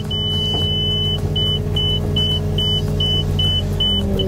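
Steady high electronic beep from the grade indicator in a Cat mini excavator cab, one long tone followed by a string of short rhythmic pulses, loud and close over the constant low rumble of the running machine.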